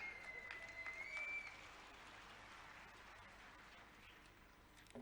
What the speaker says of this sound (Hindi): जब ताली बजाओ तो दिल से बजाओ